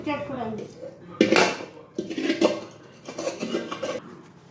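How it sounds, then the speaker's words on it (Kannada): A knife clinks against a metal plate while cutting kobbari chinni, a coconut sweet, into pieces, giving several sharp close scrapes and taps mixed with a speaking voice. "ಇವಾಗ ಕಟ್ ಮಾಡ್ತಾ ಇದ್ದೀವಿ"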